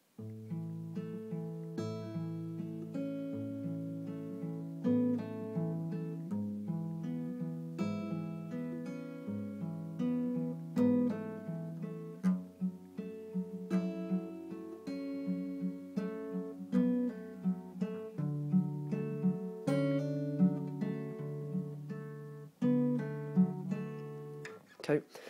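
Acoustic guitar slowly picking an intro, clear single notes and pull-offs ringing out one after another at a steady, unhurried pace, moderately quiet and close with no talking.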